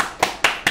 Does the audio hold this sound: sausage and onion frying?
no